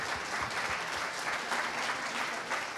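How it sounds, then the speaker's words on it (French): Steady applause from an audience at a company's 80th anniversary celebration for a packaging firm, a dense, even wash of clapping at moderate distance that holds throughout. "Pour l'applaudir."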